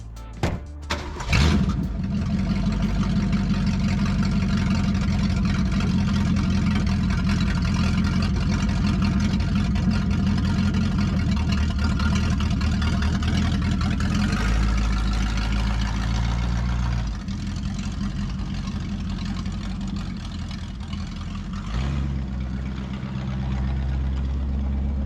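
A 1966 Ford Mustang's original 289 V8, paired with a three-speed automatic, starts and then idles steadily and loudly up close for a long stretch, with a deep low rumble and a slight change in pitch partway through.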